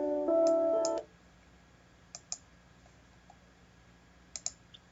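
A computer mouse clicks on a website link: two pairs of short, sharp clicks spaced a couple of seconds apart, near and quiet, following a brief electronic tone at the start.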